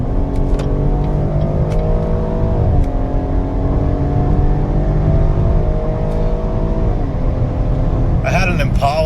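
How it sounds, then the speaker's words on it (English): A Cadillac XT6 V6 engine revs up as the car accelerates, rising through the gears with audible shifts, heard from inside the cabin as a strong, continuous drone, with a brief noise near the end. "sounds like a generic V6, but I mean, it really goes when you put your foot down"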